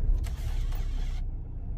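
A car engine with a P06B8 NVRAM fault fires up into a low, steady rumble, close and constant for under two seconds, with a brief higher whir fading early on.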